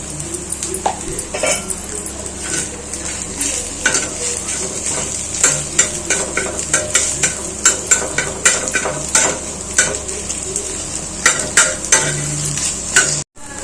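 Egg fried rice with chilli powder being stir-fried on a tawa: a steady sizzle runs throughout while a spatula scrapes and clacks against the metal in frequent sharp strokes, close and alone with no talk.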